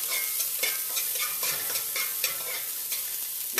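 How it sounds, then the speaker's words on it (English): Garlic and onion frying in a pan over medium heat while being stirred, a steady bright sizzle broken by scraping stir strokes at irregular intervals, close and continuous with no talk. "Give that a quick stir."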